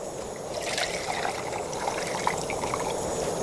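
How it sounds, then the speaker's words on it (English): Water pours steadily from a water bottle into a kettle at a winter campsite, a close, continuous trickling splash lasting a few seconds with no talk. "dump the water back into the kettle"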